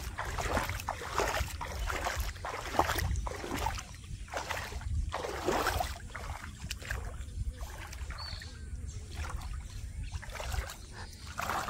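A small boat moves across village floodwater, with rhythmic splashing strokes of water against the hull and paddle repeating every second or so under a low steady wash, no speech.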